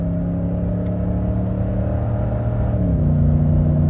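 A 13-year-old Ford Raptor pickup accelerating onto an interstate in the Dakotas, heard from inside as a steady loud engine drone and road rumble that shifts in pitch as it gains speed.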